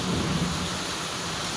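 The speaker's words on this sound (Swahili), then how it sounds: "Unasikia marurume?" Thunder rumbles low and heavy through steady downpour during a torrential rainstorm in Nairobi, a continuous close wash of rain with the deep roll filling the whole short stretch.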